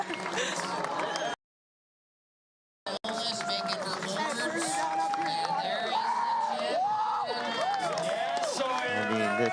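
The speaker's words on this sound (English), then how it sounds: "The crowd is just going berserk right now." Beach crowd at a Huntington Beach surf contest cheers and whoops loudly, a dense roar broken by a short silent gap, with a voice talking over the din.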